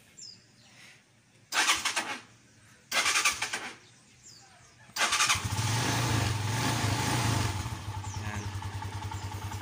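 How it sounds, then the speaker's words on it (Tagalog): A Rusi SS150 motorcycle's speaker plays a big-bike engine sound in three bursts, two short revving blasts and then a sustained loud rumble, close by, with a single brief spoken word. "Parinig natin yung tunog big bike."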